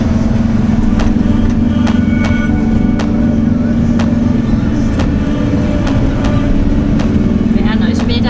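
A VW T4 Syncro camper van climbs a mountain track on off-road Monte Jafferau in the Western Alps. Its engine gives a steady, close, low drone with regular small knocks and rattles, and a voice talks over it.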